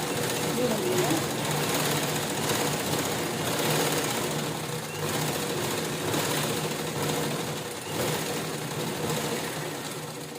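A sewing machine runs steadily, stitching two round cloth pieces together all the way around, with a continuous mechanical whir and rapid needle rhythm that is loud and close, while a person talks over it.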